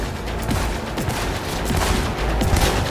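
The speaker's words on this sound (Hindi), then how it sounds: "ओ भाई बहुत ही गोलियां पड़ रही है मुझे" Rapid bursts of gunfire in Cyberpunk 2077 crackle continuously for a few seconds, sharp repeated shots layered over a dense, noisy background.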